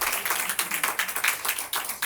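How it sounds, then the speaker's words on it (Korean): A church congregation claps to welcome visiting members, a brief burst of many hands with a lively, slightly uneven rhythm, fairly close and moderately loud. "우리 박수 한번 하겠습니다"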